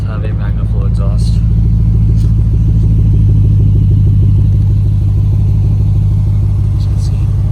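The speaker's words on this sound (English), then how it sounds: "So it does have a MagnaFlow exhaust." A 2001 Lexus IS400 4.0-liter V8 with a MagnaFlow dual-pipe exhaust idles close by in a deep, steady rumble, with a faint voice speaking over it at the start.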